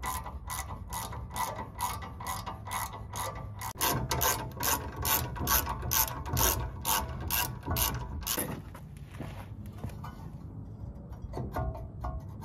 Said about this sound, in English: Taking off the caliper are just these two 17 millimeter bolts on the backside.